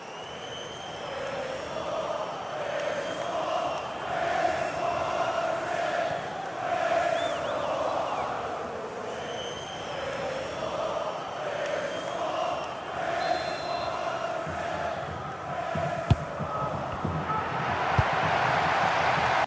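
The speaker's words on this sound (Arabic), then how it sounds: "فهسيبكم تسمعوا صوت الجماهير في الملعب الجديد" Stadium crowd in the football game FIFA Mobile, a steady roaring chant from a packed home ground that swells and ebbs in waves, with a couple of sharp thuds near the end.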